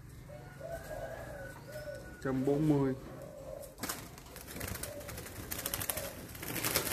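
Large Thai spotted doves give several repeated, close coos, while a voice speaks between and over the calls.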